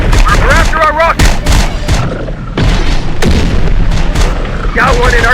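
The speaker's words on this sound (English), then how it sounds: "Getting shot at." Gunfire and booming artillery in Terminator Dark Fate Defiance, loud bursts of shots and heavy impacts in rapid clusters, with voices talking over the battle.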